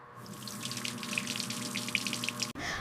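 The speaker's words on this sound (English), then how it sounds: "First we wash these apples." Apples being washed under a running kitchen tap: a steady stream of water splashes and patters over the fruit at close range, ending in a brief break and a shift in the flow.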